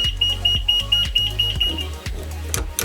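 A loud, repeated electronic beeping tone from an elevator alarm beeper on a Southern GAL Jet Plus elevator panel pulses rapidly and close up, with a low electrical hum and some clicks underneath.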